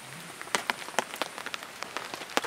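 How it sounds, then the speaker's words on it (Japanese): Gentle, steady rain patters on surfaces at a summer campsite in Togakushi, with scattered sharper drips standing out against a soft continuous hiss, close and calm, with no voices. "雨もまだまだしとしと降ってますので、まあ、なんかちょうどいい、心地のいい雨音ですね。"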